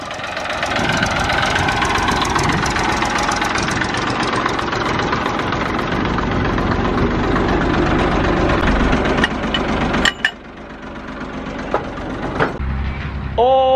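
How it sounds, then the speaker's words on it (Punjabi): A tractor engine idles with a continuous, knocking mid-range chug that holds steady for most of the stretch, broken by a sharp knock near the end and a brief lull before it resumes. "ਟਰੈਕਟਰ ਕਰ ਲਿਆ ਸਟਾਰਟ"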